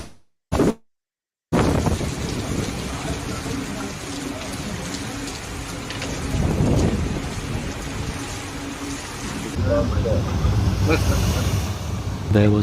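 Steady rain with occasional rumbling thunder on a rainy day near the Burj Khalifa in Dubai, mixed with road traffic noise, sustained and fairly loud after a brief dropout at the start.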